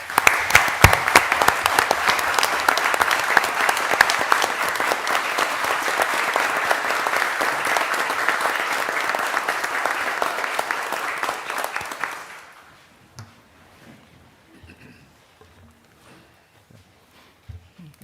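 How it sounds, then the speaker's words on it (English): A room at a city council meeting breaks into steady applause for honored firefighters, lasting about twelve seconds before fading into near silence. "A round of applause"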